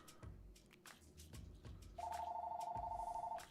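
A telephone rings with a steady electronic warbling tone that starts partway through, heard indoors over faint background clatter.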